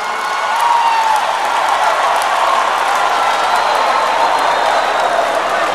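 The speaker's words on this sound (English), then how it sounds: "If you are not jealous, we'll stand up and clap for him" A comedy show audience applauds in a dense, continuous wash of clapping, steady and loud throughout, with faint cheering mixed in.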